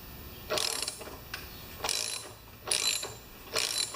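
Repeated ratcheting clicks from a hand tap cutting fresh spark plug threads in a Lawn Boy mower engine's stripped cylinder head, four bursts of turning with short pauses between, close and fairly quiet.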